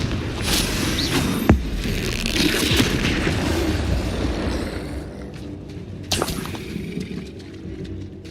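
Fiery Confringo spell blasts in the Hogwarts Legacy video game, with booming explosions and sharp impact cracks near 1.5 and 6 seconds over a dense rumbling battle wash, loud and with no voices.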